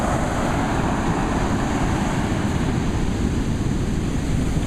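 Pacific Ocean surf rolling in at Pacifica, California, a steady broadband wash of breaking waves and foam with wind rumbling over the microphone, loud and continuous throughout.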